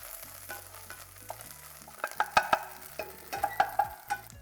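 Pesto being stirred in a hot sizzling pan for chicken alfredo, a soft fry under scraping and clinking utensil hits that grow louder toward the end, no voice.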